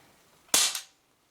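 A single sharp snap of a Cybergun FN Herstal M4 BB airgun firing, one quick crack with a brief second burst just after, close up and alone in an otherwise quiet space.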